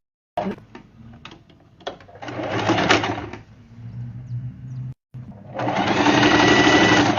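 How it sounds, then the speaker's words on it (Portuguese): A sewing machine stitches bias binding onto a fabric diaper holder: short stop-start runs of close mechanical whirring, a brief halt, then a longer steady run. "vou costurar ele aqui, ó, com um pé de máquina"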